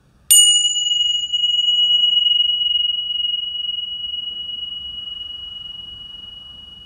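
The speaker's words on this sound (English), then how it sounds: "So I'm just going to hit this bell and let your mind just clarify and clear" Meditation bell struck once for clearing, a single bright ring that rings on with a long, slowly fading sustained tone, close and alone in a quiet room.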